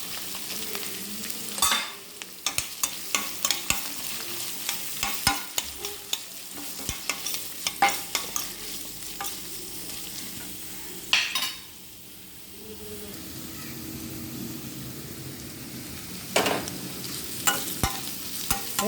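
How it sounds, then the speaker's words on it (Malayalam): Onion, curry leaves and beans fry in oil with a continuous sizzle, punctuated by repeated scraping and clacking strokes of a spatula against the pan, close and steady throughout, with one brief lull. "ഉള്ളി കറിവേപ്പില കയറ്റി ബീൻസ് എണ്ണ ഒഴിച്ച്"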